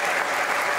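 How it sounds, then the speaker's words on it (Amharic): Wedding guests clapping together in a brief, dense burst of steady applause, close and fairly loud, with no voices standing out. "እስቲ ለጌታ ክብር ልልታና ጭብጨባ"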